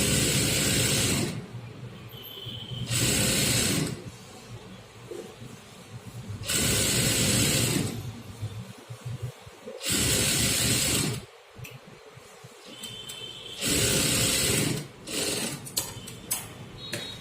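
A sewing machine stitching cloth pieces together for a dress, loud close whirring bursts of a few seconds each, five runs separated by short quiet gaps with faint handling noise.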